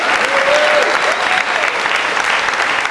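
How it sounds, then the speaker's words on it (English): Loud, dense clapping from a group applauding a Cirkidz circus workshop class, sustained and close with a few cheers and voices mixed in. "Big clap for our class today."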